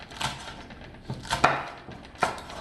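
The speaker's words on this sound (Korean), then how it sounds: "어슷어슷 썰기 야채를 우선 다 이렇게 준비해 주세요." Knife slicing green onion diagonally on a cutting board, a few sharp spaced chops with soft knocks in between, close and otherwise quiet.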